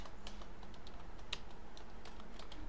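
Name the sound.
typing an SQL query on a computer keyboard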